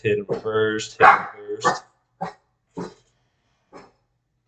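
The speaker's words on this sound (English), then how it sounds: "That's my dog." A dog barks several times indoors, loud and close, with sharp separate barks breaking up and then following a man's speech.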